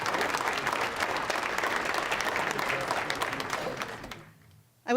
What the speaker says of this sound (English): please join me in a final round of applause for all of these most worthy recipients